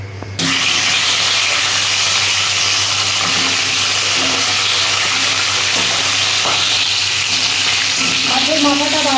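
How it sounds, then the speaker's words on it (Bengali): Fish heads frying in hot oil give a loud, continuous close sizzle with occasional stirring scrapes and a faint clink near the end. "মাছগুলো আমি মাছের মাথাগুলো ভাজবো।"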